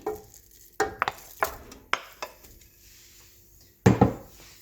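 A spoon scrapes and taps through lean beef mince frying in olive oil over medium heat, with irregular clinks against the pan and a soft sizzle in between.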